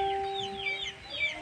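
A rooster bred for speed fighting clucks a few short, nasal calls close by, over a steady background hum and faint tonal whine.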